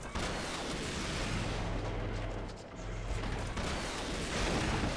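A gigantic cannon fires in the Lego Batman 3 video game, a dense, loud barrage of rapid booming blasts that runs almost unbroken, dipping briefly midway before surging again.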